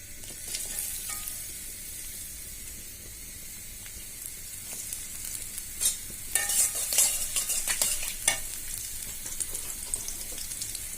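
Eggplant and hilsa fish fry in a pan with a steady sizzle, while intermittent stirring and scraping clatter near the microphone. No one speaks.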